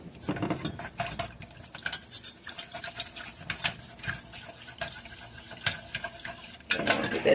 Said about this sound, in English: Let's mix that up.